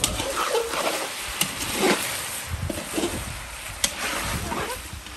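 Onions browning in a pan for a rooster massalé, with garlic and ginger nearby, give a steady broadband sizzle and frying hiss with occasional stirring scrapes and clicks throughout.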